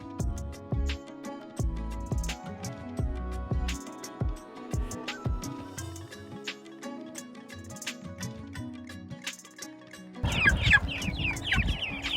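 Young chickens clucking and cheeping as they are placed inside a chicken tractor at night, a steady close chorus of soft clucks with a denser burst of chirping near the end.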